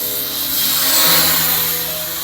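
A Dream Fly HC628 pocket drone flies close by, its small propellers giving a continuous high, buzzing whine that swells slightly midway, with no talk.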